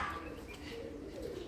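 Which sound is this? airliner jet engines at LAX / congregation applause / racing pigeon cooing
racing pigeon cooing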